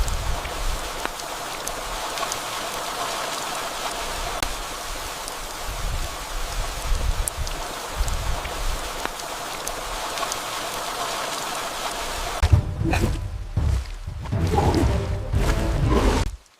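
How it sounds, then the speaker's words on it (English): Steady rain falls through a forest, a dense even hiss with scattered drops that carries on for a long stretch, then breaks into uneven bursts and gusts near the end; no voices. "when his prey is off guard and the rain disguises his footsteps"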